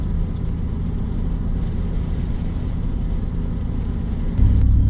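A two-wheel-drive GMC Sierra pickup drives out onto a sandy beach, its engine giving a steady low rumble with a slight rise in load near the end.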